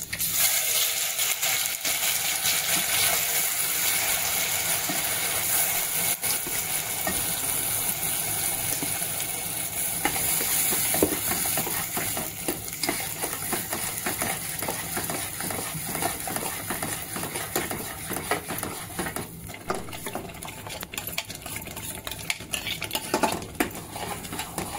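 Wet masala of ground onion, tomato and Sangameshwari chilli being added and stirred in a pan, a continuous close clatter of spoon against metal with a wet sizzle underneath.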